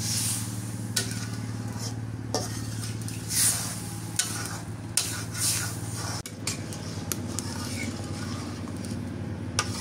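A curry of onion paste, turmeric and water bubbles in a pan over a steady low hum, with occasional soft clinks and stirring sounds and no talk.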